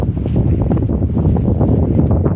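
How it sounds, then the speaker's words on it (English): Strong autumn wind at a beach buffets the microphone continuously, a loud low rumbling roar with no pauses. "Gosh, it's windy."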